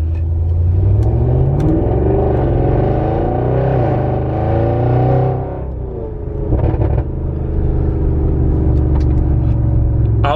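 An Audi RS6 Avant engine in sport mode revs up from inside the cabin, pitch climbing through gears with a deep rumble, a brief dip, then more acceleration.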